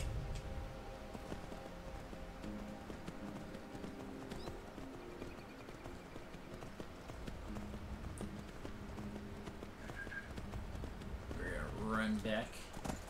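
Horse hooves clip-clop steadily in the Skyrim video game, a continuous faint walking rhythm under game ambience and background sounds, with a brief louder effect near the end.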